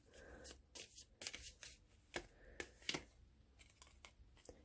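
Tarot cards shuffled by hand in quick, uneven bursts of crisp riffling and flicking, close and fairly quiet, with short pauses between handfuls.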